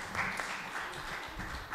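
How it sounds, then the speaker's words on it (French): A church congregation applauds softly, a faint, even patter of many hands clapping at a distance, steady throughout. "Oui, on peut applaudir si vous voulez"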